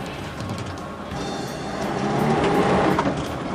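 An off-road vehicle drives slowly and gently, a steady mid-level rumble of engine and rolling noise with faint rattles, gradually building a little in loudness.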